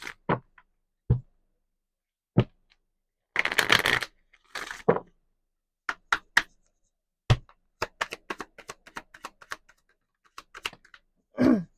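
Romance angel oracle cards are shuffled and handled in a quiet room: scattered sharp taps and clicks of card on card, with one brief riffling burst midway.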